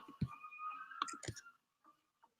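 A pencil tapping on an iPad screen gives a few sharp, close clicks in a short burst with a steady tone underneath, followed by a couple of faint isolated taps.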